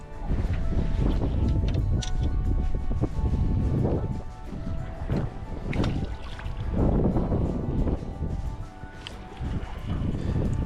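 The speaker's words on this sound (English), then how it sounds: "I wish that wind would die down just a little bit." Steady wind roars across the open microphone on a river while drift fishing for blue catfish from a boat, a loud continuous gusty rush with low buffeting that swells and dips throughout.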